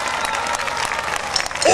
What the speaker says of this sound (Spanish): venga el aplauso